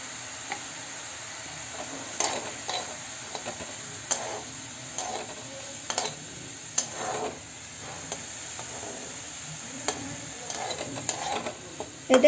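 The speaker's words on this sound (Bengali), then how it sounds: "দেখো আমি এভাবে নাড়া দেখাচ্ছি তোমাদের" Butter, about half a spoonful, is stirred in a pan for green apple ice cream: soft, irregular scraping strokes over a faint sizzling hiss, quiet and close, with no talking.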